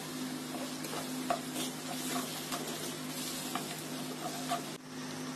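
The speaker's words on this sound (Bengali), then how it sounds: "এখন দিয়ে দিচ্ছি আধা কাপ টমেটো পিউরি।" Tomato puree going into fried carrots in a pan for red sauce pasta, a steady quiet sizzle with occasional scraping stirs and small clicks, continuous throughout.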